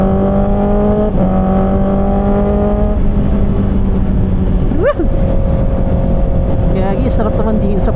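A sport bike cruises at night on the Calax expressway, its steady engine drone and rushing wind loud and continuous close up, with a rider's voice over it.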